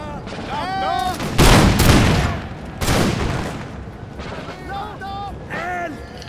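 Musket and artillery volleys in the Empire: Total War video game, with heavy booming blasts at intervals among shouting soldiers' voices and battle din.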